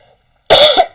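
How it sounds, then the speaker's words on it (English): One loud, harsh cough bursts out abruptly from a person with a bad throat after a moment of near silence, then trails off quickly. "Sorry if that was jarring, this cough."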